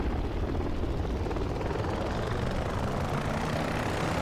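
Steady, loud OH-6A helicopter turbine and rotor whine in the DCS flight simulator, holding a continuous broadband roar throughout with no break or voices.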